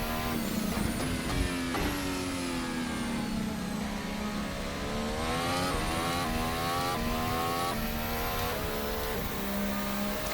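Hybrid race car engine in the Formula Hybrid 2018 video game, with auto-blipped downshifts and seamless upshifts: a high, buzzing engine note rising and dropping repeatedly as gears change, loud and continuous, with no talk.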